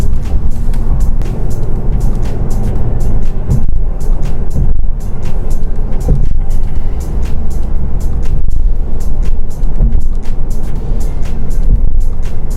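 A 2023 Lexus RC350 F Sport taken through corners at roughly 62 mph, heard as loud, constant engine drone and road and tire roar, close and unbroken throughout with no voices.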